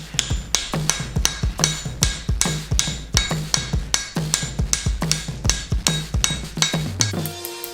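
Cross peen hammer striking hot, large steel stock at a forge, giving a rapid, steady run of loud ringing metallic blows, close by, with anvil rebounds between strikes and no talk.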